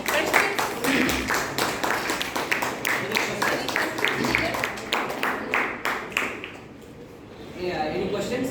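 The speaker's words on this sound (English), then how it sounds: "Can we get a round of applause for that?" A grade 8 class audience bursts into applause, a dense patter of clapping that runs for several seconds, fades out, then picks up faintly again at the end.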